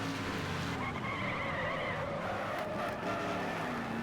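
A fast Camaro-style race car from the racing game Wreckfest roars steadily with a rising engine note and skidding tire squeal, loud and continuous throughout with no talking.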